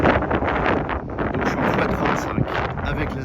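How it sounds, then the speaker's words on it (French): Strong wind buffets the microphone outdoors in a loud, continuous roar with gusty swells and no pauses. "Ça souffle bien, hein."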